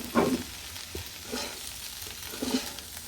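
Okra (ladies finger) frying in a pan, with a few soft stirring scrapes and brief sizzling bursts spaced across a short, fairly quiet stretch, close by and without talk.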